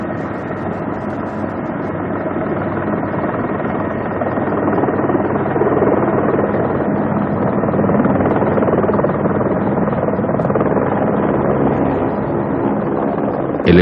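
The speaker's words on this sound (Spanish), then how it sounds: "Al oír el sonido del helicóptero, los campesinos se reúnen en los arrozales cercanos a las excavaciones." A helicopter's loud, continuous engine and rotor drone throbs steadily close by over rice paddies, with no pause throughout.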